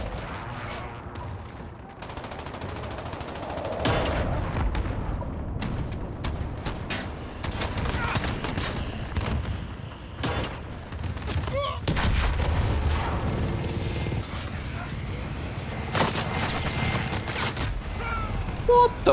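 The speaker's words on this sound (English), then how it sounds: "Enemy cruise missile, take cover!" A large online match with 32 players per side erupts in heavy explosions and gunfire as an enemy cruise missile strike lands: repeated sharp blasts and rolling booms across the whole stretch, dense and loud, with bursts of weapon fire between the impacts.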